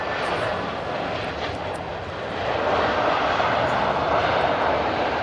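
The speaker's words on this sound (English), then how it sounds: "Lufthansa A319." A Lufthansa Airbus A319 airliner arriving on a daily flight from Munich gives a loud, steady jet engine roar that swells slightly midway and holds at full strength, with no talk over it.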